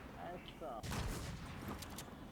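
Burst of gunfire in The War Z, a loud volley breaking out partway through and continuing in a dense rattle, with people talking quietly underneath.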